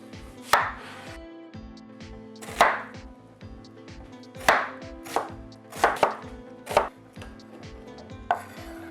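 Knife chopping an onion on a board, about eight sharp irregular chops with music playing underneath.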